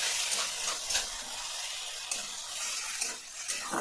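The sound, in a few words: fish curry masala paste being stirred and fried in oil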